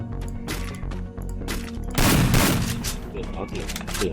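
Rapid gunfire in the mobile shooting game Free Fire, a dense burst of shots growing louder midway, with a voice talking over parts of it.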